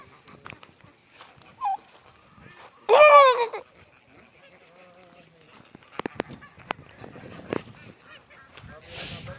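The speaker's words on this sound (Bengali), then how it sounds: "এই হচ্ছে টার্কি মুরগি।" Turkeys call on a duck and chicken farm in the Saudi Arabian desert, with one loud gobbling burst near the start amid quieter scattered poultry noises and clicks.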